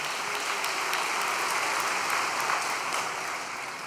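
Congregation gathered for an overnight prayer service clapping in encouragement, a dense, even round of applause held for several seconds before easing slightly at the end.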